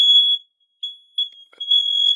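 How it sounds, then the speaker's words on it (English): An overactive household smoke alarm sounds in a quiet room with sharp, piercing high beeps that start and stop in irregular bursts, clear and close. "Hang on a second, my smoke alarm is going off."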